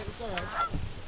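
Geese honk from a flock passing high overhead during a waterfowl hunt, a couple of short nasal calls over steady outdoor background.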